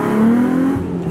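A modified Nissan 350Z engine revs hard and close, its pitch climbing in a steady sweep before the throttle drops off near the end.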